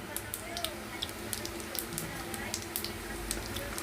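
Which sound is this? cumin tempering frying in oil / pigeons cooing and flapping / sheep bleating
cumin tempering frying in oil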